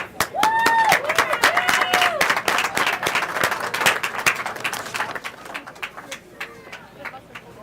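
Audience applause for participants at a rabbit showmanship event at the North Idaho State Fair, a moderate round of clapping with voices and whistle-like tones mixed in before tapering off.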